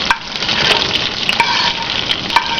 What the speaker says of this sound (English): And now I'm going to add my onions and celery.